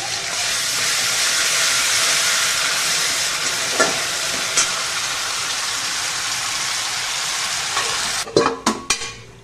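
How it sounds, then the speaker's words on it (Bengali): Masala with ginger, garlic and onion frying in a pan, a steady loud sizzle and hiss with occasional stirring scrapes, ending in a few sharper clatters. "মশলাটা কষিয়ে নিচ্ছি"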